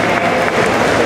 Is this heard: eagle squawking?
no